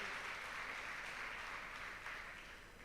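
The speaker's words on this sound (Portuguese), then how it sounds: "Vamos aplaudir Jesus pela nossa visitante," Congregation applauding during a Sunday morning church service, a steady dense wash of clapping that holds throughout and eases slightly toward the end.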